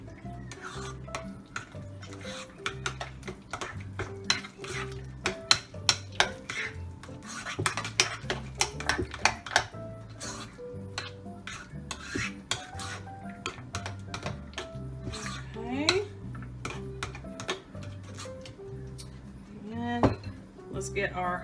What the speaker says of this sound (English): Okay, so you mix all that together.